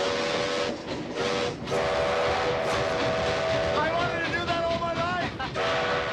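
A steam train from the film Back to the Future Part III rumbles loudly throughout, with a whistle blowing in sustained tonal blasts over the clatter of the locomotive.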